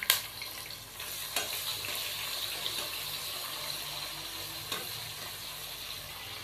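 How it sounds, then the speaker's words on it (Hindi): Two finely chopped onions frying with spices in oil for vegetable pulao, a soft steady sizzle punctuated by a few clattering stirs, quiet and close. "अब हम इसके अंदर प्याज शामिल कर देंगे, 2 अदद प्याज नाजरीन बारीक कटे हुए।"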